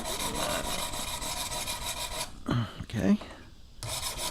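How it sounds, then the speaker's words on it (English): Steel traditional broadhead stroked across a sharpening stone in steady back-and-forth rasping passes that stop near the end, close and fairly quiet, with a brief word spoken as the strokes pause. "let's sharpen this one. All right, let's mix it up a little bit. We'll use the stone on this one."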